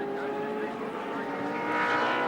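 Touring car from the 1984 Australian Touring Car Championship round at Wanneroo, sprinting down the straight with a steady, loud engine drone that swells toward the end, under continuous race commentary.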